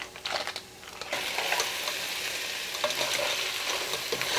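Marinated crab goes into a hot frying pan with curry leaves and spices, setting off a loud, continuous sizzle with stirring scrapes after a brief quieter moment at the start.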